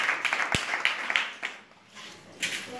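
Classroom students clap briefly for classmates who answered a quiz question, a few scattered claps at moderate distance, with some faint voices around them.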